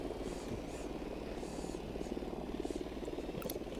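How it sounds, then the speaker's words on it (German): A surveillance drone in Ghost Recon Wildlands hovers with a steady, buzzing rotor whir, moderately loud and continuous, with faint game ambience and no talk. "gehen wir mit Drohne vor."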